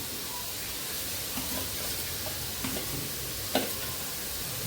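Tomato and a few green chillies hiss and sizzle steadily in hot oil for a vegetarian dhokar bora rosha curry, with a soft continuous fry noise and occasional light clinks of stirring.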